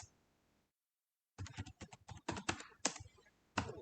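A computer keyboard is typed on at close range while C code is written. After a brief silence come quick, uneven bursts of clicky keystrokes, with no speech over them.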